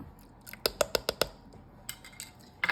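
Egg and whole milk whisked together in a bowl, a run of sharp, evenly spaced clinks of the whisk against the bowl's side, close and crisp, with softer scraping before and after.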